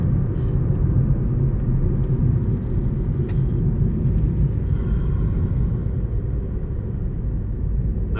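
Steady low engine drone and road rumble inside a moving car, continuous and fairly loud with no clear talk.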